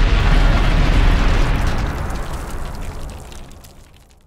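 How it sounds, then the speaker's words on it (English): A synthesized explosion built in Phase Plant: a loud, broad, rumbling blast with a deep low-end boom that sustains briefly and then fades out smoothly over several seconds, heard alone. "Synthesizing explosions can be a really interesting way for adding layer and depth and punch to your sound design of explosions and impacts."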